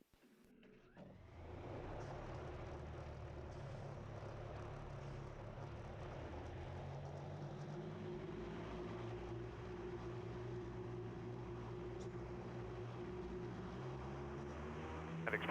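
A Wisk autonomous eVTOL aircraft powers up for an experimental test flight liftoff at a runway, its rotors starting after a quiet moment and settling into a steady, moderately loud whirring drone with slowly rising tones.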